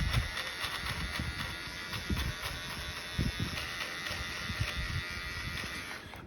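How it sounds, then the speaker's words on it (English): Electric hair clippers fitted with a number 5 guard trimming a mustache, a close steady buzzing hum with soft irregular bursts as the blades move through hair, no talking. "We're going to go ahead and turn it on, and we're just going to start trimming away."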